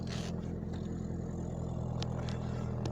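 A car engine rumbles loud and close at a steady low pitch, a brief light tap on the gas adding little change, with faint clicks and rattles over the drone.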